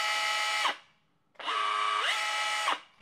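Two bursts of a Bosch GBH 187-LI cordless SDS Plus rotary hammer drilling at high speed, a brief pause between them, the second rising in pitch midway as it shifts to second speed.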